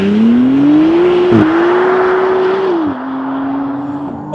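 A McLaren Artura makes a launch-control 0-60 mph run, its hybrid powertrain roaring loud and close as it climbs steadily through the revs. Two brief dips mark the gear changes.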